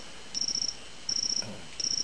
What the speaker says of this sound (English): This is an electronic cricket.